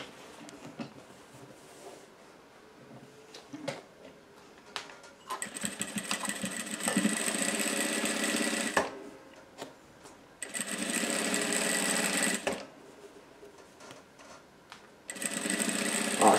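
Sewing machine running in several sustained bursts as it stitches across a wall organizer made of milk cartons, close and steady, with quieter handling noises between runs.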